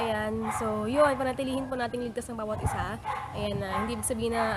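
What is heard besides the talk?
dog barking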